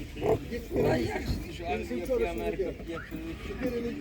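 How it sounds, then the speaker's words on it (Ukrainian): Piglets grunt and squeal in short bursts at an outdoor market while people talk nearby. "Такі поросятка."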